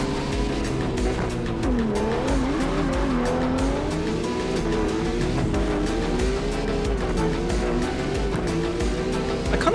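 Steady BMW E46 engine drone in the CarX Drift Racing video game, with rising and falling pitch and tire squeal throughout a drift, loud and continuous with no talk.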